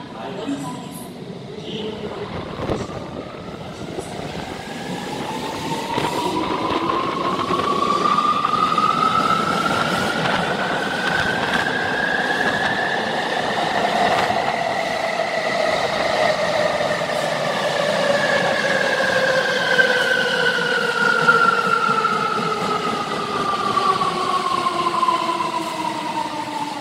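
A Tokyo Metro 17000 series train runs through Meiji-jingumae station, its motors whining in rising and falling tones over a steady rumble of wheels, with station announcements heard beneath.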